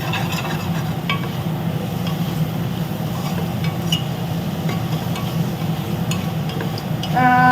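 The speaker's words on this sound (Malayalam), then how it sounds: "കുറച്ച് ഗരം മസാലപ്പൊടിയും കൂടെ ഇടാം പോയാലും കുഴപ്പമില്ല ഇത് നല്ലതുപോലെ ഇളക്കാം" A spoon works steadily through paneer pulav in a hot pan after garam masala goes in, giving a continuous scraping stir over a low sizzling fry, with a sharper clatter right at the end.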